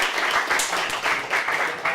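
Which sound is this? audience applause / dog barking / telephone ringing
audience applause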